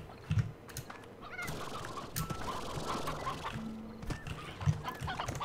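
Chickens in the Slime Rancher video game cluck and honk in scattered calls over a busy, noisy game soundscape of rustles and chirps, at moderate level.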